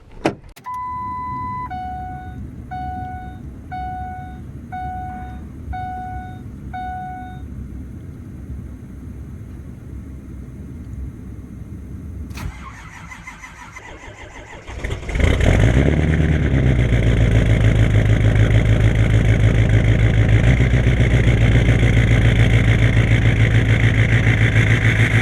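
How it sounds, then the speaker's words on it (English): Ford 6.0 Powerstroke diesel truck in cold weather: a repeated dashboard chime sequence, then a cranking whir as the starter turns, and the engine catches into a loud, steady diesel idle close by. "we got the truck started up"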